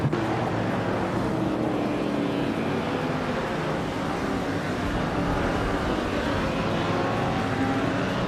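Vintage street cars such as Shelby GT500s and a Lamborghini Jarama S race in a video game, engines droning continuously at a steady roar with no pauses.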